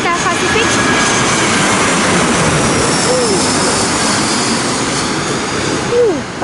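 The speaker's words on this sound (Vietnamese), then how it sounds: "cái máy bay nó bay trên đầu nó thú vị như thế nào." Loud, sustained jet roar from a large airliner flying low overhead near an airport-side cafe in Saigon, steady throughout with a brief swell near the end and a voice speaking faintly beneath it.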